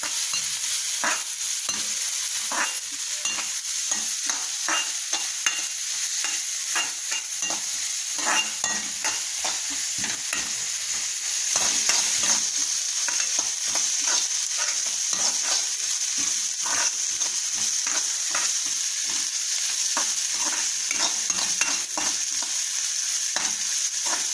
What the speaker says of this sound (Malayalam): ഇനി ഒരു ചെറിയ സവോള, ഇതിനെ നന്നായിട്ട് വഴറ്റണം.